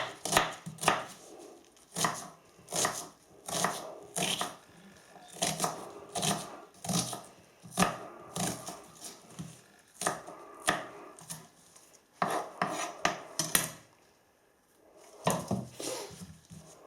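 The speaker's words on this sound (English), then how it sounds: "The onion needs to be chopped up quite finely." An onion is chopped finely with a knife on a board for a corned beef pastie, giving a steady run of quick, close knife taps in uneven bursts with a brief pause near the end.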